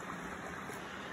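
Water in a small creek flows in a steady, soft rushing wash, outdoors on a trail on a winter day, with no voices over it.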